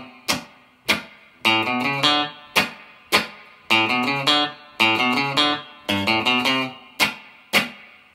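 A theme played on guitar: short chord phrases alternate with sharp percussive clicks from muted strings, a steady rhythmic pattern of bright strums and pairs of dry snaps, close and clear with no talking.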